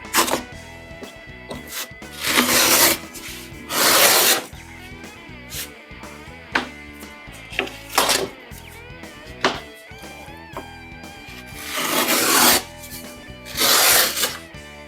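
A chamfer hand plane shaves the edge of plasterboard drywall in short, separate rasping strokes, each a brief scrape with quiet gaps and faint clicks between them.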